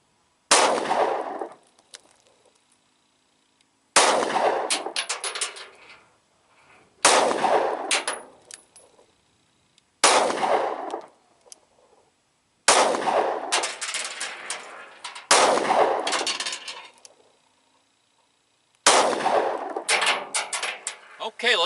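Ruger 7 handgun shots at a target, loud and sharp. Each crack is followed by a ringing decay, and the shots come one at a time every few seconds, seven in all.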